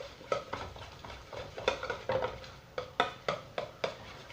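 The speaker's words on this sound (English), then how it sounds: "we're just going to cook that butter and flour down a wee bit" A spoon stirs a butter and flour roux in a pan with a quiet, rhythmic series of soft scraping strokes over a faint sizzle, close by with no talk.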